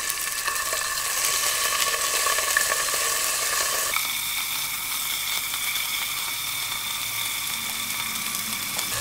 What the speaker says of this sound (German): ich kann das jetzt ein bisschen anbraten